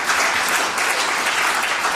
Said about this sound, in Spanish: Denle un aplauso a Él porque Él vive para siempre